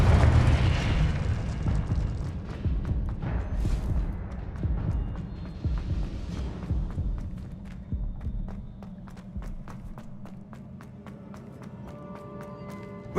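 Spell combat in Hogwarts Legacy, with the Confringo blast spell fired amid a fight: booming bursts and rumbling impacts over dense low-end battle noise, with scattered sharp taps and hits throughout.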